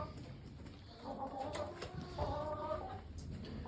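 Young pigeons, including pouters and cream-coloured birds, in a pigeon loft give soft, quiet cooing and clucking calls in short bursts over a hushed background.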